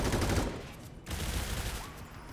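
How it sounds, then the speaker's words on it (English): Rapid, dense gunfire from a gun in a tactical shooter video game, a sustained burst of shots that breaks off briefly midway and then resumes, fairly faint in the mix. "As he shoots his gun!"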